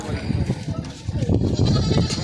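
A goat bleats at a crowded goat market in Punjab, giving several short, wavering calls close by while people talk over and around them.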